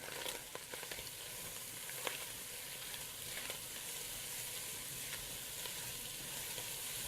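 About a cup of finely diced onion sizzles steadily in a soup pot, a continuous close-up frying hiss with faint stirring crackles and no talk.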